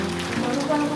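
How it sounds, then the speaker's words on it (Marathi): Rain beginning to fall in a village under dark clouds, a steady close patter and hiss of drops on surfaces filling the whole moment without pause. "आला बघा, आला पाऊस"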